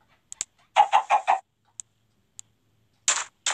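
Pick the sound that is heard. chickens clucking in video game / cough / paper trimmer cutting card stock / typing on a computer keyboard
chickens clucking in video game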